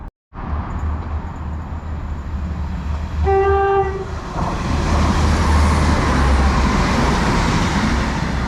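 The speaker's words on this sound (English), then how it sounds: "There's graffiti train heading off to Portadown there" A graffiti-covered train departing a Belfast station for Portadown rumbles past with steady low engine drone, a short tonal horn or brake whine sounding midway, then the noise swells as it pulls away.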